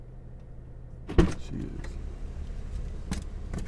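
A person gets into a car: one sharp thump from a door, then shuffling, rustling movement and light clicks, with a short spoken phrase over low, steady background hum.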